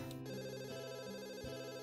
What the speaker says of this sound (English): A soft ringing gives us pause. As Lily reaches into her pocket, it becomes obvious that the sound's coming from her phone.